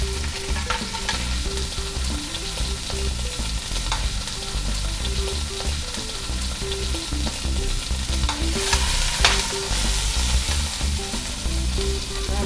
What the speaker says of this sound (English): going to put your pork tenderloin in. It'll start searing it.